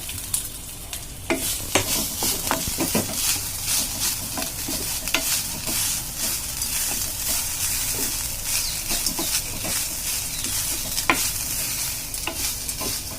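Grated fresh coconut frying in a pan for an okra fry, a steady close sizzle punctuated by frequent clicks and scrapes of a spatula stirring, continuous throughout with no voices.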